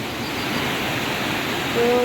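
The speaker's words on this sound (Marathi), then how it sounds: "तो बघा पाणी कसं चाललंय" Floodwater rushing across submerged fields near a shop, a dense, steady roar of flowing water, loud and continuous with no talking.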